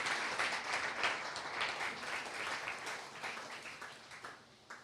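A church congregation applauds at the close of a sermon, a soft, steady patter of clapping from a distance that slowly dies down.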